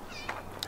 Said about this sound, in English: It's a random cat.